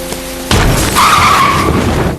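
Car tires squeal and skid loudly on a road just before a serious crash, bursting in suddenly after a brief quieter lead-in and holding a harsh screech for over a second.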